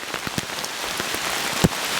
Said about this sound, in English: it is raining pretty heavy. As you can see, it's just pounding.